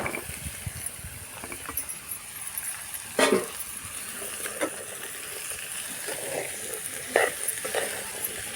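Small bottle gourd pieces drop into a pan of fried dried prawns, sizzling steadily under intermittent stirring, with a couple of louder clinks of the spoon against the pan.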